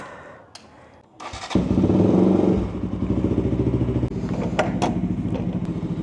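A Husqvarna Svartpilen motorcycle engine cranks over and catches after a short clatter, then settles into a steady, close-up warm-up idle with a fast pulsing beat.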